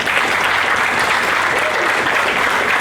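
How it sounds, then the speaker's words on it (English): A crowd at a C8 Corvette media presentation at Corvettes at Carlisle breaks into loud, sustained applause, with thick continuous clapping filling the space evenly throughout. "And please give them a round of applause,"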